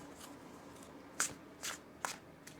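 Brisk riffle shuffling of a Brian Froud oracle card deck, several quick papery bursts and snaps close by, with no talking.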